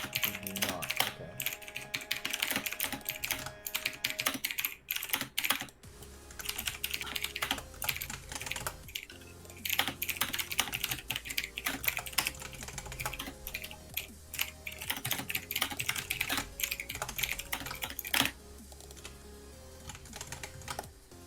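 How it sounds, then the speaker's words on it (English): Loud, rapid typing on a computer keyboard during a Minecraft GLSL shader development stream, with dense clattering keystrokes running nearly continuously and dominating the sound, with no talk. "why the keyboard in the background so loud, louder than your voice?"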